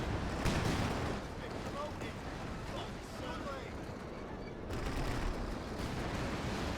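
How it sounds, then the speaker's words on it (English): An aircraft strafing run in a video game produces a dense, rumbling barrage of rapid gunfire, continuous and moderately loud, briefly easing in the middle before swelling again. "Oh, pretty nice strafing run."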